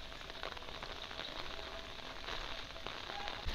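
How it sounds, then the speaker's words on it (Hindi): Heavy rain pours down in a village during windy weather, a dense, steady hiss of drops on surfaces that stays close and unbroken throughout, with no talk. "बारिश कितनी ज़्यादा हो रही है इधर भी"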